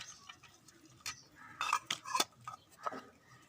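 A utensil mixes spices into an aloo kabab mixture of potato and chana dal, making faint, irregular clinks and scrapes against the bowl in a quiet kitchen.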